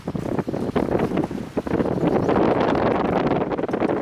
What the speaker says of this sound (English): Oh, it's windy here.